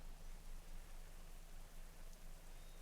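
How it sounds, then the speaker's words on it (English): Steady, soft rain hiss in World of Warcraft, an even wash of in-game rainfall with no voices, continuous and fairly quiet across the whole stretch. "Oh, it's raining."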